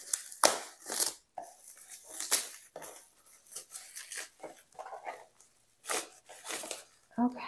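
Bubble wrap crinkling while a parcel of extra-large diamond painting trays is unpacked, close irregular bursts of crackling and rustling with quiet gaps between.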